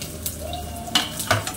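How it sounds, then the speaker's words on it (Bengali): Onion dropped into a hot pan for a light fry during rava dosa preparation, giving a steady soft sizzle with a few sharper clatters and stirring scrapes near the end, close and moderately quiet. "এবার দেখো পেঁয়াজটা দিয়ে দিচ্ছি।"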